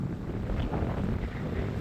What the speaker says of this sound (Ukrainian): типа вітер в ту сторону. А от зараз дуже сильний, типа этот.